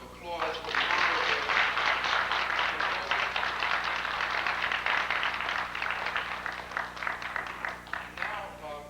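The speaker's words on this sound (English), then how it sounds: "Let's have another hand of applause for the honorable." Conference audience applauds steadily for several seconds, a dense wash of clapping with a voice faintly audible underneath.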